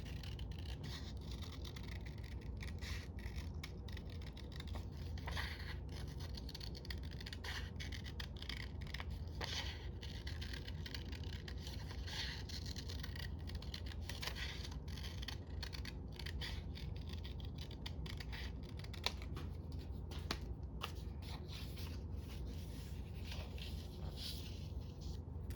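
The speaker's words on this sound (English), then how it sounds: "I'm going to cut the circle out." Scissors cutting a circle out of paper at a craft table, a continuous run of soft snips and scraping paper rubs at close range over steady low background hum, with no talk.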